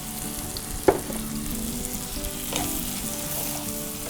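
Chicken frying in a pan with onion and ginger garlic paste, a steady close sizzle with a brief clink of a utensil.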